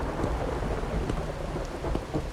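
Steady rain falls and low thunder rumbles through a nighttime scene in the video game Wuthering Waves, a dense, continuous wash of sound with no voices.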